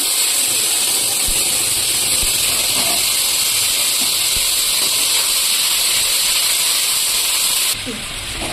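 Ginger, cumin, coriander and chilli spice paste sizzles in a hot kadai for a vegetarian biryani, a loud, steady hiss that holds nearly unbroken, with a quick drop near the end.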